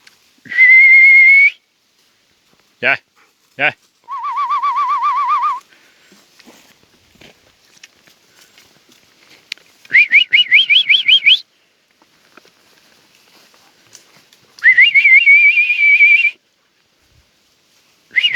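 Loud, close bird calls come in separate bursts of trilling whistles and chirps, divided by quiet pauses.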